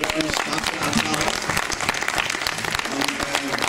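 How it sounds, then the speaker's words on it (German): Steady crowd applause at an award ceremony for organic shops at a trade fair, continuous clapping throughout with some voices underneath. "Also einmal einen starken Applaus."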